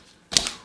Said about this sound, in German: Und da machen wir mal die Folie weg